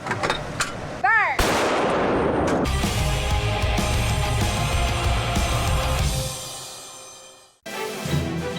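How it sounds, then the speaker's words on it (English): Military artillery fires on snow-laden mountain slopes to trigger avalanches: loud booming blasts and a brief whistling sweep, then a long rolling rumble that fades near the end before another burst. "Their method of avalanche control is to shoot the snow out of the mountains using artillery power."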